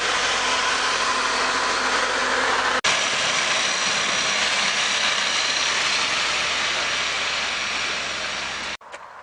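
A tractor engine drones along a farm walking path, a steady loud mechanical rumble that holds close throughout, broken by a couple of brief clicks and dropouts near the start and end.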